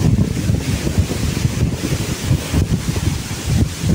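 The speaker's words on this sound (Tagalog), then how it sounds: "Kaso nga lang talagang lalakihan ng mga alon, no?" Heavy wind buffets the microphone while big waves churn and crash on Manila Bay during a typhoon, a loud, rumbling, gusty roar with no voices.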